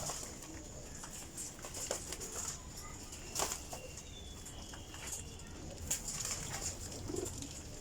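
Teddy Golden racing pigeons flying over an open outdoor loft, with repeated wing flaps and soft coos against a steady hiss of background noise, fairly faint and distant.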